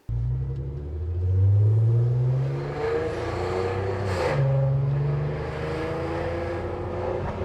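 A 19-year-old Mk1 Audi TT engine revs up close with a loud, rough rasp, climbing twice in strong pulls that settle back to a rumbling idle between them.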